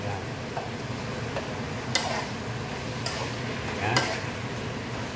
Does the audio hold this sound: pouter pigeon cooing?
no